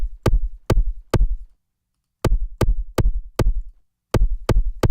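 Drum machine pattern played back through a vintage coloring mode on the Battery drum machine: booming low kicks layered with snappy hits, in three short bursts of three to four strokes separated by brief gaps, loud and close with no voices.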